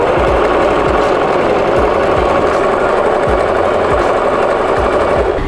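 A sewing machine stitches a 1 cm seam on a gathered skirt, running loud and steady throughout with a continuous whirring motor and a rapid, regular needle thumping, close up and alone with no talk.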